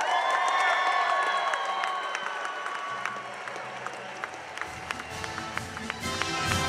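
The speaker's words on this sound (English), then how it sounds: "Let's give him a round of applause." A crowd breaks into loud, sustained applause with cheering and whoops at a Navy swearing-in ceremony for future sailors, dense clapping filling the space throughout.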